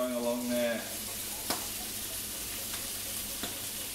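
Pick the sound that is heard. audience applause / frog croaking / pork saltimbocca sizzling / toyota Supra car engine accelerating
pork saltimbocca sizzling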